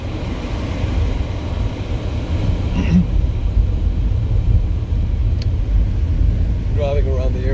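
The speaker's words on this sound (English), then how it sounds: "Driving around the area near Suchitoto, heading down to the lake." A car drives around the countryside near Suchitoto, El Salvador, heading toward the lake, with a steady loud road rumble and engine drone throughout.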